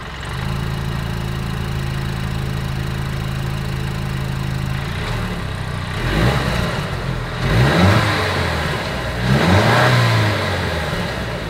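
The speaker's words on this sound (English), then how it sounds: "As always, here is that exhaust clip." A 2023 Mercedes-Benz E 350 engine idles steadily, then revs sharply three times through the exhaust, each roar rising and falling back, close and loud.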